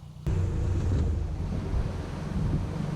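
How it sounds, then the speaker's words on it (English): Water rushing out of an emptying canal lock on the Staffordshire and Worcestershire Canal, a steady loud roaring wash that starts abruptly and continues without a break, with no talk over it. "So there's the lock emptying now."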